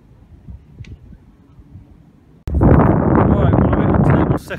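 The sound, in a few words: wind on a golf course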